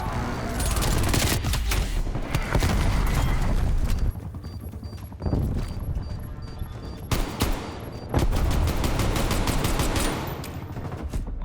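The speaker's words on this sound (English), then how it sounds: "Incoming artillery." Incoming artillery fire in a video game: dense, loud blasts and rumbling explosions pound almost continuously, dipping briefly around the fourth and seventh seconds before the barrage surges back.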